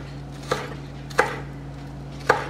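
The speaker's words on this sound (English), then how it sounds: "I'm gonna chop up some scallions while that is cooking" A knife chops scallions on a cutting board: three sharp, separate strokes, evenly spaced about a second apart, each with a short ringing decay, close and alone over a low steady kitchen hum.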